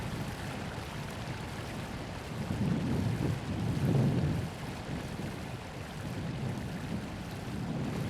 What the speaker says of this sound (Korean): 아콘카구아가 만들어낸 작은 물줄기.